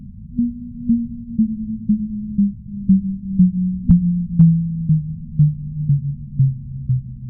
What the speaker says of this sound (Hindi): 1997 के बाद 2016 में भी साइंसदानों ने ऐसी ही आवाज को रिकॉर्ड किया और इस आवाज को FRB साउंड का नाम दिया गया।